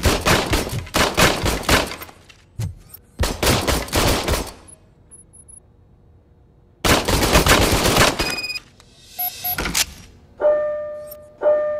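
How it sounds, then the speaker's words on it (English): Service pistol gunfire in the Robocop: Rogue City video game: close, loud bursts of rapid shots in several volleys separated by quiet gaps, followed by mechanical clicks and a few electronic tones near the end. "I was issued this old gun and serviced it according to the manual. I will try it out."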